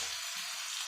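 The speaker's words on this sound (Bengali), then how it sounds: "আবার এটাকে ভালো করে নেড়ে চেড়ে নেব, একটু ভাজা ভাজা করে নেব।" Onion paste being stir-fried in oil gives a brief, soft, continuous sizzle with no voices.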